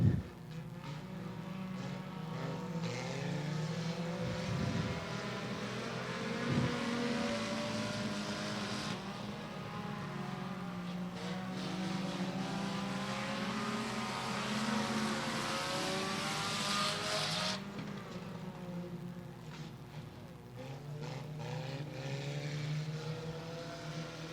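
SCDRA 4-cylinder race cars run a makeup feature at Beckley Motor Speedway, engines droning steadily and loudly throughout with shifting pitch as cars pass, no talk over it.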